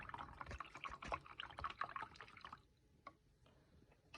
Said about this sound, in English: I'm gonna pour this pot roast mix in first